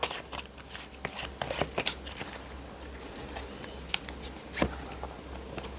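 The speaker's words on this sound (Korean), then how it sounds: "타로 카드 섞겠습니다" Tarot cards shuffled continuously by hand, making a soft stream of papery slides and scattered sharper clicks that stay fairly quiet and close, with no voice.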